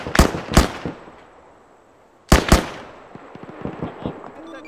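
Mounted machine gun in the Arma 3 video game firing two short bursts of a couple of sharp, loud shots each, separated by a pause, with faint rumbling echoes and a light background hum.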